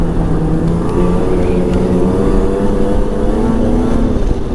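A 2006 Ski-doo Renegade 600 SDI snowmobile pulls away smoothly as its clutch engages around 3,200 RPM, the engine note rising steadily into a loud, close, continuous drone with no talking.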